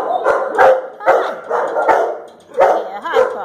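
Dog barking repeatedly at close range, a quick run of sharp barks and yips at an irregular pace with short gaps, loud and dominating the scene.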